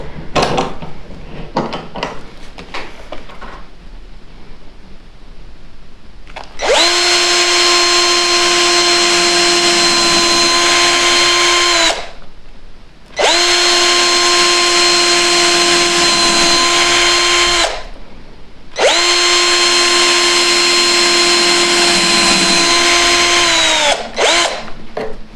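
Power drill boring holes through clamped journal pages for a stab-stitch binding, three long steady bursts of high whine separated by short pauses, loud and close with no talk.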